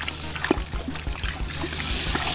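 Grain being poured into hot mash water in a kettle while it is stirred during an all-grain brewing session, a soft continuous pouring and trickling hiss with light sloshing and scattered thuds of the stirring paddle, close by, with no talking.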